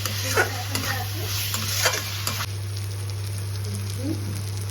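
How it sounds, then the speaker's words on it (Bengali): Food being stirred and fried in a pan for kosha, a spoon scraping in quick uneven strokes over a soft steady sizzle, close by and moderately loud. "মোটামুটি 5-10 মিনিটের মতো কষতে হবে।"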